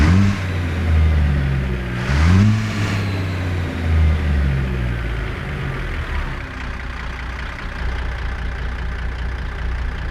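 A Z-Mod 650 hp Cat C16 truck engine in American Truck Simulator revs and pulls away from idle, with loud low-frequency rumble and a couple of rising throttle surges early on, then settles into a steady driving drone.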